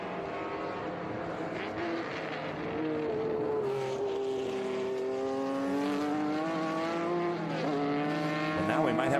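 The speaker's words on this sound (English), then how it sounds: "Look at that BMW go up the S's" A BMW race car accelerates hard uphill through the S-curves at Virginia International Raceway, its rising engine note climbing through the gears with a shift near the end. A commentator talks over it.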